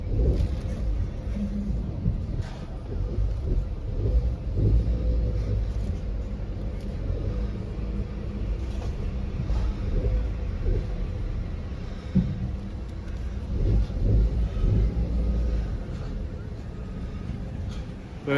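A Skoda Fabia bought at a salvage auction is driven onto a trailer, its engine a low steady rumble with clunks and knocks throughout, close by.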